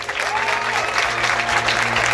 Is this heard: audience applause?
yes